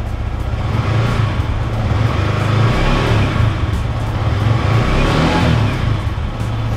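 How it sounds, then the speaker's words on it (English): Yamaha R15M motorcycle engine revving lightly near the microphone, a steady low mechanical drone that swells slightly through the middle, with no talking. "if I rev a little bit"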